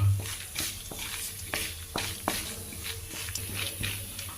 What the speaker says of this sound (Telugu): దీంతోపాటు కొద్దిగా కరివేపాకు కూడా ఇలా కరివేపాకు కూడా వేయించుకుంటే